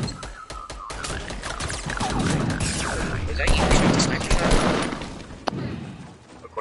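Sustained automatic gunfire in Fortnite, loud and dense bursts rolling over several seconds with a few sharper isolated shots near the end, a busy firefight sound.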